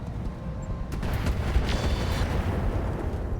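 Missile salvo slamming into a mech in the RogueTech battle game: a dense, continuous rumble of explosions and booms that swells after the first second and keeps pounding to the end, with no voices.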